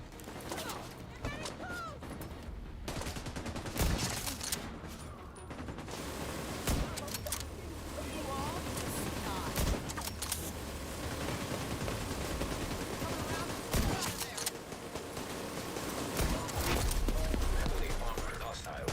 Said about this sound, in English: I'll try to take the minigun.